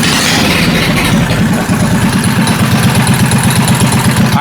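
A kart cross engine fitted with a Honda Biz carburetor runs at a steady, loud idle close by, its low, even pulsing chug continuing without a break.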